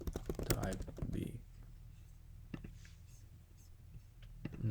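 Quick bursts of typing on a computer keyboard come first, close and crisp, mixed with a voice, then a few isolated clicks follow against a quiet background.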